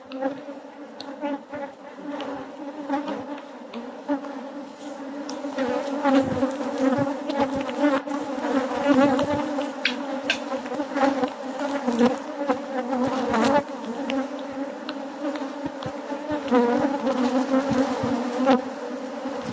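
Dense, steady buzzing of many honeybees at a hive close by, a continuous droning hum with no talking.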